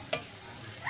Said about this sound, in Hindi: और थोड़ी सी लाल मिर्च, अब इसे मिक्स कर लेते हैं।